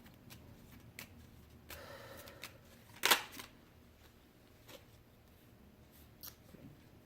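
A Lenormand card deck being shuffled by hand: soft, quiet papery riffles and shuffles with one sharper, louder burst of card noise midway, no talking.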